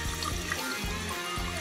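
Water gushing and spraying from a pipe during a plumbing repair in a restaurant, a steady close rush with pulsing surges, over a low droning hum.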